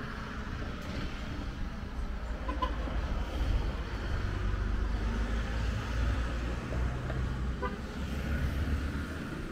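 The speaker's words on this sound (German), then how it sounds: "Hier ist ganz schön Verkehr." Busy road traffic near a golf resort on Gran Canaria, a steady loud rumble of passing cars with short horn toots standing out over the continuous roar.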